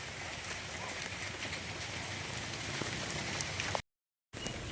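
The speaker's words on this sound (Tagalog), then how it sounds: "Ulan ng ulan, almost 2 weeks na nag-uulan na." Steady rain falling outdoors on a farm after nearly two weeks of downpour, a dense continuous patter with scattered louder drops, briefly cut to silence near the end.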